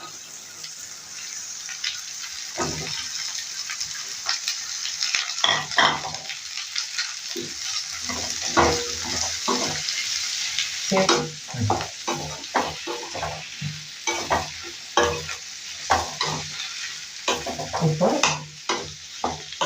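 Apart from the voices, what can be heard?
ivy gourd frying and being stirred in a pan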